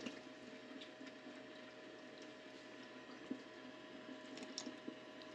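Water trickles slowly and steadily across a gold-panning table, a faint, continuous low wash with occasional small splashes and drips.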